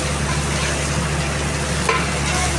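Brinjal, chilli and potato are stirred together in a cooking pan, giving a steady low scraping and sizzling wash that runs unbroken throughout.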